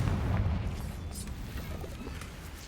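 Confringo blasting spell going off in Hogwarts Legacy: one rumbling explosion with a booming low burst that slowly fades across the clip.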